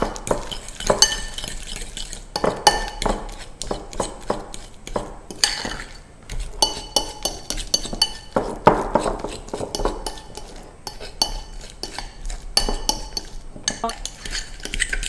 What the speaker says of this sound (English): And then we are just going to mash them with a fork.